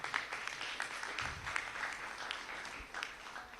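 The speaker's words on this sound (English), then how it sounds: "Big round of applause to all teachers" Applause for teachers at a school speech and debate program, steady clapping from a seated audience throughout, fairly distant and diffuse, filling the room without any voices on top.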